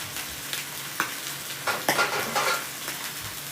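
Sous vide pork belly sears in a hot pan with a loud, close sizzle, broken by scrapes and light clinks as the pieces are moved around.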